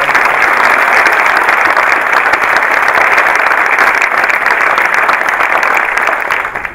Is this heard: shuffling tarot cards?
no